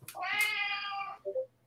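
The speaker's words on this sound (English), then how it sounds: "please stop meowing" A cat lets out one long, drawn-out meow, clear and fairly close, followed by a short, softer chirp-like meow at the end; no one speaks over it.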